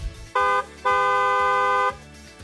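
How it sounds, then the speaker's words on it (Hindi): Car horn honking on a street in Pahalgam: a short blast, a brief pause, then a longer sustained blast lasting about a second, loud and close over a low engine rumble. "दूसरों को भी सावधान करने के लिए हॉर्न बजाएं"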